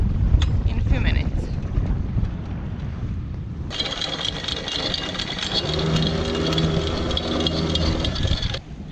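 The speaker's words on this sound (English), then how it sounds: "Now it's windy, 14 knots" Wind of about 14 knots on the Hallberg-Rassy 54 sailboat Cloudy Bay, anchored overnight off Deltaville on the Chesapeake, gusting and rushing against the microphone as a steady broadband roar that swells partway through, with a low engine-like hum beneath.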